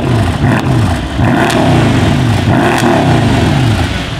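A Mercedes-AMG V8 engine, just reinstalled in the car, fires up and revs loud and close. Repeated rising and falling throttle blips give a deep, burbling growl.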